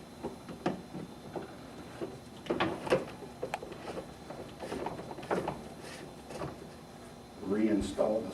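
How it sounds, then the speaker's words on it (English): Plastic clunks and scraping clicks come from an RO water filter sump housing as it is handled and reinstalled, a series of short knocks at close range with a person speaking over them. "Reinstall the sump and make sure it's nice and snug."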